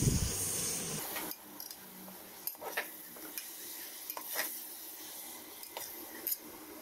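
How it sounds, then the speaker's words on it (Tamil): Tomatoes with mint and coriander sautéing in a pan for mutton biryani, a faint hiss of frying with several sharp scraping stirs of a spoon against the pan. "இது எல்லாத்தையும் சேர்த்து நல்லா வதக்கிக்கலாம்"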